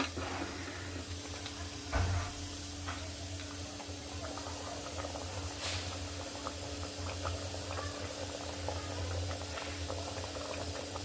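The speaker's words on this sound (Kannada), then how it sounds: "ಈಗ ಚೆನ್ನಾಗಿ ಕುದೀತಾ ಇದೆ." A pot of radish and lentil sambar simmering on the stove, with soft, steady bubbling and faint irregular pops and ticks running continuously at low volume, with no one talking.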